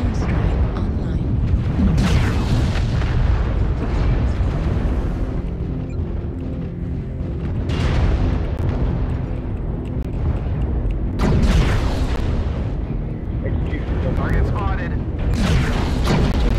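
Airstrike blasts in MechWarrior Online rumble loudly in repeated heavy booms over constant mech machinery noise, while a player keeps talking throughout.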